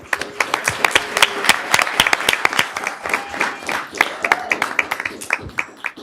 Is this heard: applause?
yes